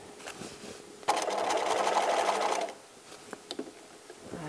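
A sewing machine stitches through fabric in one steady continuous run of about a second and a half, loud and close, with light handling noises before and after.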